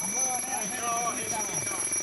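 A firefighter's breathing-apparatus air pack sounds its low-air warning, a steady high electronic beeping that holds throughout, with a voice wavering underneath.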